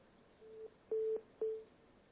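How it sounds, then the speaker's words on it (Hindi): Telephone line tones as a call drops during a live news phone-in: three short, clean beeps at an even pitch, the last two louder, over a quiet background. "राजपाल जी का फोन जो है वो कट गया है।"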